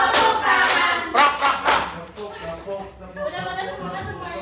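A group claps hands in time with a children's clapping song in a classroom setting, several sharp bursts of claps early on, then fading into voices and chatter.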